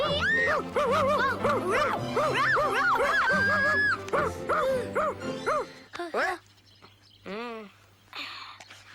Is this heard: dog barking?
yes